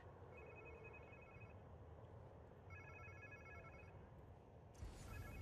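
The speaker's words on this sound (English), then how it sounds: "Sounds like somebody's phone." A phone rings in short repeated electronic bursts in the video game Spider-Man 2, faint beneath a constant rumbling background of ambient noise.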